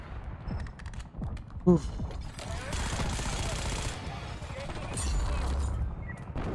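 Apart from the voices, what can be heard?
gunfire from video game Black Ops 6, pistol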